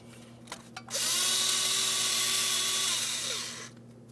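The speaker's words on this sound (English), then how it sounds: "Go ahead and remove that 8mm headed mounting bolt." A power ratchet or drill spins out the 8mm mounting bolt holding the front ABS wheel speed sensor on a 2007-2014 Ford Edge, a loud steady whine lasting about three seconds after a few brief taps, up close.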